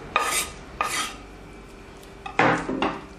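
Spoon stirring a cheese and parsley börek filling in a bowl: four bursts of scraping and clinking, two early and two later, close and fairly loud with quiet gaps between.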